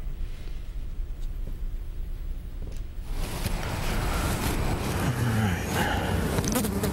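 European honeybees buzz around rooftop hives atop the Music City Center, a dense swarm drone that swells louder halfway through over light wind.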